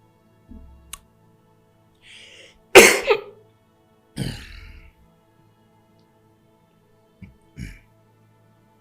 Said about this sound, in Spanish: Perdón, una tos.